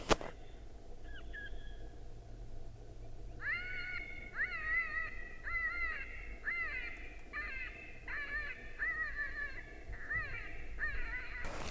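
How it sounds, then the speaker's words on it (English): Repeated harsh, wavering electronic squalls from a predator caller playing prey distress sounds, like a distressed animal cry, play in a steady series outdoors over low background noise during a coyote hunt in Arizona. "I'm gonna run through about 8 to 10 minutes of prey distress sounds"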